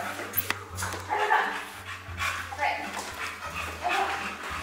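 A dog barks and whimpers with short yips and whines, close by, while people talk over it.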